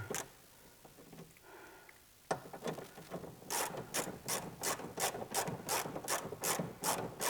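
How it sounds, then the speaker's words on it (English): A hand ratchet works bolts loose on a Porsche 997 exhaust, first a soft click, then a rapid, evenly spaced run of close, crisp clicks in a quiet garage. "Then we're going to remove these 3 bolts"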